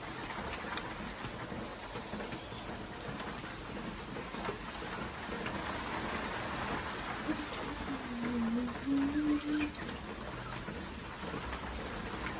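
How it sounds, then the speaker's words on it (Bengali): Steady rain falls outside a pigeon loft, a continuous even hiss and patter that lasts the whole stretch, with a brief low cooing rising softly near the end and no one talking. "আর আমাদের বাইরে বৃষ্টি পড়ছে"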